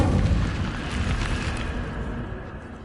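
Incendio fire spell cast in the video game Hogwarts Legacy, a loud fiery whoosh and rumbling burst that fades gradually over a few seconds.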